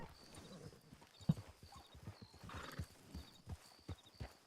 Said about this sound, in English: She's sneaking up on that horse.